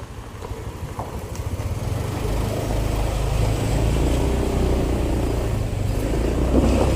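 A motor vehicle rumbles past on a village road, its engine growing louder and holding steady close by for several seconds, with no talk.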